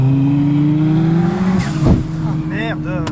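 Two race cars on a circuit touching wheel rims at speed: loud engine drone, then a sharp brief scraping impact, followed by tire squeal and fluctuating revs as the cars separate.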